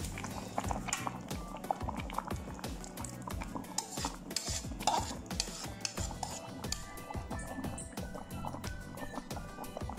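A utensil scrapes and stirs canned fish curry with lotus stems in a pan, giving a busy, continuous clatter and sizzle at moderate volume with no voices.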